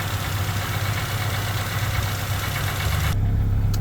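The engine of a 1989 Nissan S-Cargo that needs cleaning idles steadily with a low, throbbing rumble, close and continuous, before the sound briefly changes near the end.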